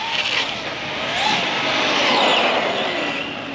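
An Arrma Gorgon brushless RC car on a 3S battery whines continuously at high speed, its motor pitch rising and falling as it races past nearby, with no talk.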